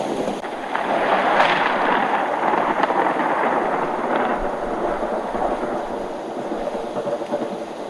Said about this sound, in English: overhead, there was a bad lightning storm forming and heavy snowfall